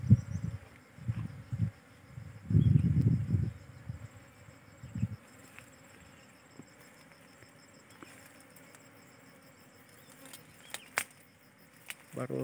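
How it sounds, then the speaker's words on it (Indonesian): A low, droning buzz of many bees gathering pollen swells loudest for a few seconds early on, then fades to a fainter hum with occasional soft clicks. "Sangat banyak sekali sobat lebahnya, sampai-sampai suaranya berdengung."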